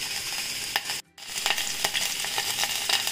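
Chillies and urad dal frying in oil for a beetroot chutney, a continuous crackling sizzle with stirring scrapes, broken by a brief silent gap near the start.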